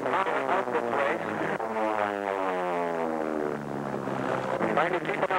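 Racing airplanes at the Reno air races sweep around the pylons with a loud, sustained engine drone whose pitch slides as they pass, under continuous race commentary.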